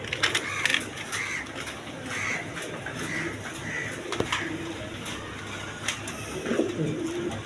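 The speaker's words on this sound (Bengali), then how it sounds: "দেখেন কবুতর যেটা, দেখেন একদম কোয়ালিটি সম্পন্ন কবুতর" Quality giraffe-neck pigeons coo in soft, repeated low calls, fairly close, over a steady background of rustling and faint bird sounds with no talking.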